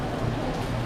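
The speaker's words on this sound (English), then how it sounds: "This is a rain. It just pours." Heavy rain pours down at Epcot, a dense continuous hiss of downpour striking surfaces, steady and close throughout a very short stretch.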